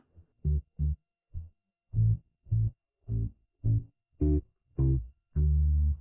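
Normalized bass guitar stem separated from a song, a series of deep plucked notes in a steady rhythm, each sustained briefly with a gap between, heard alone with a slightly distorted, droning tone.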